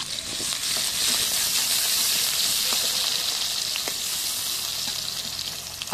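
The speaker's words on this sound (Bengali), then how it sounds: "কুচি করে রাখা পেঁয়াজ ঢেলে দিচ্ছে। একটু নেড়ে চেড়ে নিচ্ছে" Chopped onions sizzling and frying in hot oil in a wok, a steady loud crackle with a few faint stirring scrapes, no voices.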